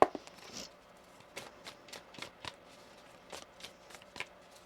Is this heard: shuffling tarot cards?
yes